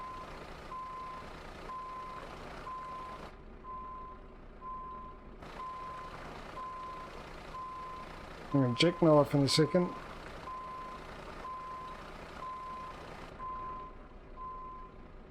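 A big truck reversing in Euro Truck Simulator 2 gives off a steady series of evenly spaced electronic beeps over a low engine hum, while someone talks over it and a brief horn-like burst cuts in.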